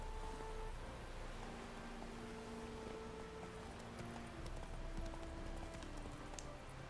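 Horse hoofbeats at a gallop in the video game The Witcher 3, a steady clip-clop rhythm running continuously under game ambience and music, moderately loud and close.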